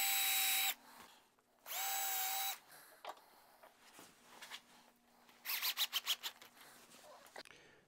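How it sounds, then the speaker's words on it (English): Two loud bursts of a high-pitched power drill whining as it drills a railing, then quieter handling and a rapid series of short grinding pulses near the end. "so I'll get a perfect match when I drill the railing"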